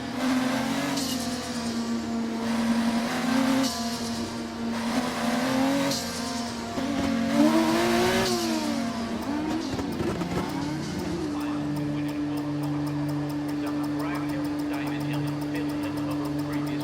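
Formula 2 race car engines sit on the starting grid in the F1 24 video game, a loud continuous engine drone with revving surges and a steady high tone settling in near the end.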